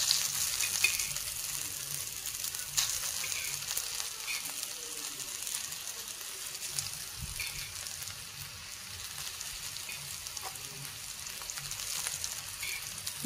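Coriander vadi pieces fry in hot oil on a tawa, giving a steady, close sizzle with faint crackles and a few soft spatula clinks, no talking over it.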